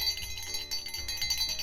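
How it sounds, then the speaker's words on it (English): A small jingle bell from a treasure and trinket box being shaken, giving a brief, bright metallic jingle, close and clear with no voices. "Here we have a jingle bell."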